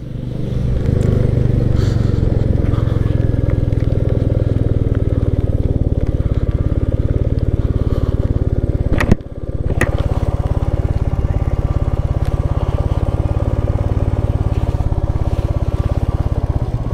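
A motorcycle ridden through hillside tea gardens near Darjeeling, its engine droning loudly and steadily throughout, with a brief dip midway, no talk.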